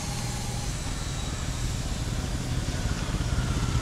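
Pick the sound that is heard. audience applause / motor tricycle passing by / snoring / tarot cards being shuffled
motor tricycle passing by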